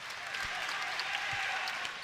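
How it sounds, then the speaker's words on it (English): Crowd clapping in the stands at a UCLA vs UC San Diego men's volleyball match, a steady wash of applause filling the gym with a few louder claps standing out. "They'll start the slow clap."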